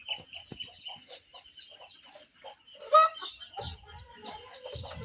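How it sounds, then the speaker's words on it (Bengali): Chickens released from straw at a small farm cluck and chatter in short repeated calls, one louder squawk standing out midway, with rustling and shuffling underneath. "এখন আমি খড় থেকে মুরগিগুলো বের করে দেব"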